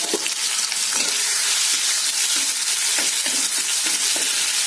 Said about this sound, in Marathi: आता आपण कढीपत्ता टाकला तर त्यामध्ये वाटलेली मिरची टाकायची।